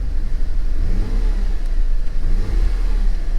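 Car engine at a salvage auction lot given a light blip of throttle, rising to a steady moderate rev and easing back, loud and close with no talk.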